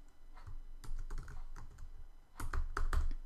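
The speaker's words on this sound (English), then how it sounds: "So I'll make sure I have a large font, and I'll make it red. And I'll type it in here." Keys clacking on a computer keyboard as a page title is typed, irregular bursts of close, moderately loud keystrokes with a denser flurry near the end, no talking.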